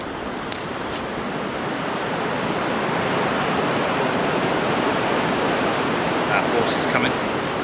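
Strong wind outdoors on a countryside walk near a bridle path: a loud, steady roar of rushing air buffets close by without letup, swelling slightly as it goes.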